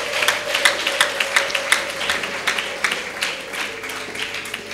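A church congregation applauds in a steady patter of hand claps, moderately loud and even throughout, with a faint sustained tone in the background but no clear ululation.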